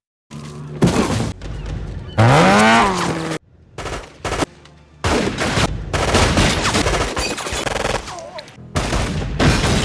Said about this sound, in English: Suddenly they heard gunfire as the gang attacked everyone